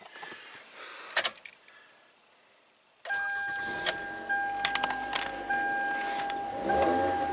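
A Toyota Camry fitted with a new Denso ignition coil: a few keys jingle, a brief quiet, then the engine cranks and catches into a steady idle with a faint whine and occasional clicks.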